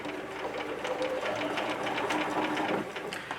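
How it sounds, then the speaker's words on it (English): A sewing machine runs steadily stitching in the ditch along a fabric seam, its rapid needle clatter close and continuous, no voices over it. "my needle inside of that seam. It's called stitching in the ditch."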